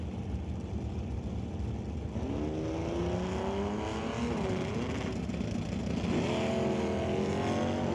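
A drag racing car at an NHRA Northwest National Open Series event drives off down the strip, its engine note climbing through gears in rising sweeps over a steady loud roar.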